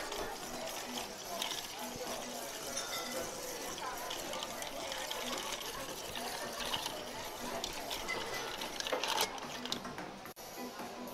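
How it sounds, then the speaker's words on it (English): Japanese Boulevardier of Campari and Takatsuru being stirred with ice in a mixing glass, a continuous close clinking and swirling that runs for several seconds, with a voice speaking over part of it. "A quick stir down."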